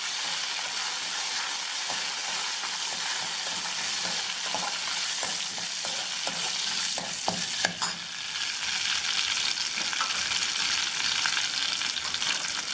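Curry leaves fry and crackle in hot oil for kodo millet sambar rice, a steady loud sizzle with scattered pops and the scrape of a stirring spoon running throughout.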